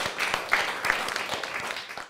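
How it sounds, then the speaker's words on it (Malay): Classmates applaud group four in a secondary school history lesson, a dense burst of many small hands clapping with a few sharper individual claps, fading slightly at the close. "Okey, beri tepukan kepada kumpulan empat."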